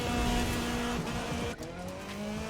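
A Mitsubishi Lancer rallycross car in a racing video game roars steadily through water, its engine droning loud and continuous with a brief dip and surge midway.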